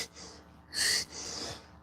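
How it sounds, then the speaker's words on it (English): A person sneezes once in a short, sharp, breathy burst, with a quick intake of breath before it and a softer exhale after. "normally my sneezes come in threes"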